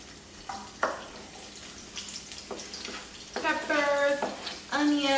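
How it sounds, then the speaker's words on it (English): Peppers and onions frying in a pan, a faint sizzle building as vegetables drop in, with voices talking over it and louder crackling bursts toward the end. "So we're going to add our peppers and onions."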